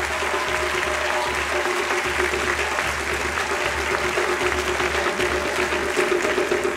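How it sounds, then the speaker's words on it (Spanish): Sustained audience applause for the musicians at an African dance performance, a dense steady wash of many hands clapping with a low droning hum beneath, continuing evenly from start to finish. "Obviamente también a los músicos hay que darles un muy merecido aplauso."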